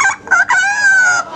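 A parrot imitates a rooster's cock-a-doodle-doo, giving one loud, close crow in a few rising and sustained segments with no talk over it.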